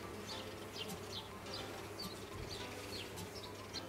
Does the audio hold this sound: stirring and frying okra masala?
no